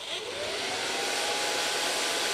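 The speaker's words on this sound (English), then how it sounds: "So now I can blow dry your hair. Start blow drying with a fine brush." A hair dryer blows steadily while hair is blow-dried with a fine brush, a loud continuous rushing whoosh that holds at an even level with no voices.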